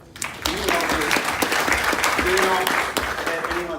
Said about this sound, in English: John and Das, everybody, give him a clap.